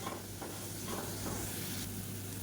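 Potato fry sizzling steadily in a pan on a high flame while being stirred, a continuous broadband hiss with faint scraping stir strokes and no talk.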